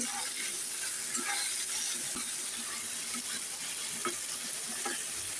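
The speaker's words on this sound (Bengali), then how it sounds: "হলুদ দিয়ে চিংড়ি মাছ ভেজে নিচ্ছি।" Shrimp fried with turmeric in a pan give a steady, close sizzle, with small spatters and the scrape of stirring running through the whole stretch.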